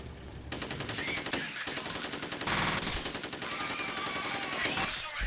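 Rapid automatic gunfire in F.E.A.R., a sustained rattle of close, loud shots with short pauses, beginning after a quiet opening, with a voice faintly underneath.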